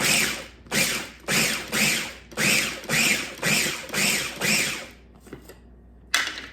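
A food processor pulses nuts into fine crumbs for thimble thumbprint Christmas cookies: about eight evenly spaced, loud whirring bursts with short gaps between them. A few faint clicks and one last short burst follow.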